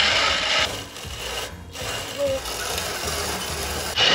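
Roasted medium-roast coffee beans ground by hand on a Salkantay trek in Peru, a continuous close rasping, crunching grind with brief pauses.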